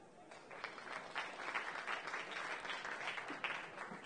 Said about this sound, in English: So please can I have a round of applause for the speaker, Maria Penan.